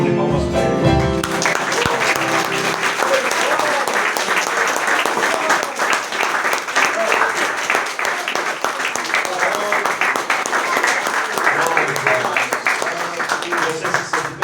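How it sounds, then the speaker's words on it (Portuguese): A church congregation breaks into loud, sustained applause that fills the room steadily for the whole stretch, with a brief tonal sound at the very start. "Vamos dar uma salva de palmas para Ele."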